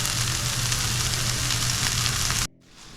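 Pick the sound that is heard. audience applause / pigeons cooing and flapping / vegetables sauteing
vegetables sauteing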